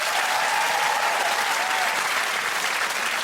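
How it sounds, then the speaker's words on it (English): A dense, even wash of studio audience applause on a comedy quiz show, loud and close, sustained without a break from start to finish. "Give them a round of applause"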